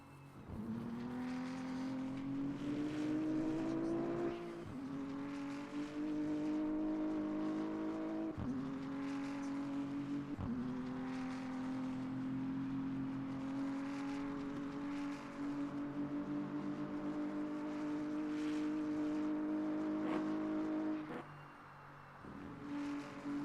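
Race car engine in Le Mans Ultimate on a qualifying lap at Spa, holding loud sustained high revs that climb through the gears, with brief dips at shifts and lifts, close and alone throughout.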